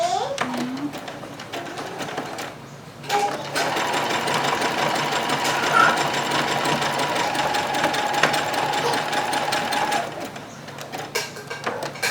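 Sewing machine stitching a zigzag seam on reusable nursing pads, a loud, steady mechanical whirr that runs for several seconds after a short pause, with a voice briefly heard around it.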